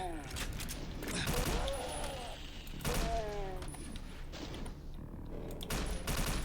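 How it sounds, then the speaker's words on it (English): A shotgun fires repeatedly in the video game Forlorn, several loud blasts spaced a second or two apart, with game effects and someone talking over them. "This shotgun is nice."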